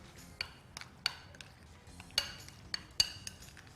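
Cream and milk mixed in a bowl, with a utensil tapping and clinking against the sides in short, sharp, irregular strikes, close but fairly quiet, with no voices.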